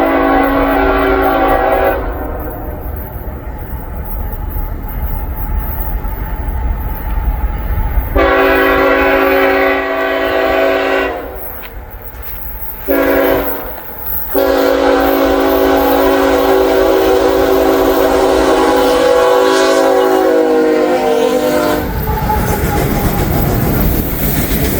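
A train passes very close on the tracks, with loud blaring horn blasts that stop and resume over a constant heavy rumble of rolling wheels.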